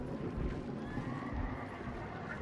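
Horses near players in the Hunt: Showdown video game give a faint whinny over low hoof thuds and wind-like rumble, heard from a distance.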